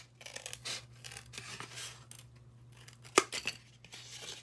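Scissors snip and crunch through a styrofoam cup along a curve, with scratchy rubbing and a sharper squeaky cut near the end, close but quiet over a low steady hum.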